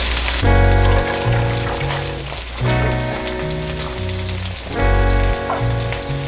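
A second batch of burgers fries in a skillet, giving off a loud, steady sizzle and crackle that runs the whole time, with layered tonal sounds beneath it.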